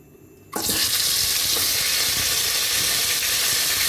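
Oxtail pieces drop into hot oil in a pot, and a sudden loud sizzle starts. The broad, steady hiss of frying continues close up without pause.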